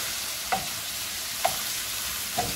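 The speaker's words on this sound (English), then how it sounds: "so give it a good stir fry" Large shrimp stir-fried in a hot pan give a steady sizzle, broken by three sharp spatula scrapes and clicks at even intervals, close and fairly quiet.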